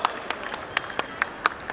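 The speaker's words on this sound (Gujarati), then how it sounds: "So એકવાર જોરદાર તાળીઓ થઈ જાય યાત્રીની ફેમિલી માટે" Audience applause for Yatri's family at a family celebration event, a fairly sparse, moderately loud run of claps with a few sharper hand strikes standing out, brief and without talk.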